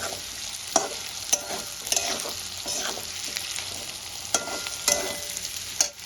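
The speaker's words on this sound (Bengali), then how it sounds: "আলুগুলো আমার একদম সেদ্ধ হয়ে যাবে সঙ্গে সঙ্গে ভালো করে কষাতে থাকবে" Potatoes sautéed with a fish head in a pan, a steady sizzle broken by repeated scraping and stirring strokes of a spoon, close and without talk.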